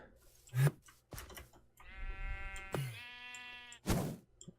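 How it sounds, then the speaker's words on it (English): Minecraft sheep bleat in the game, one long wavering bleat in the middle between short clicks and thuds of game actions, fairly close and clear. "Hey, sheep."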